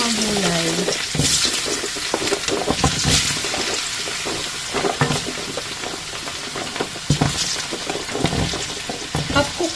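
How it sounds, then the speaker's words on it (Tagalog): Vegetables sizzle and crackle in a hot pan, half-cooked for chicken pineapple stew, with irregular bursts of spattering and stirring noises throughout. "Prito ko muna yung mga gulay."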